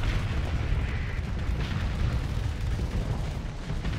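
Missiles launching in the space combat game Starsector, a dense, continuous roar of rumbling bursts and booms that runs steadily throughout with no break.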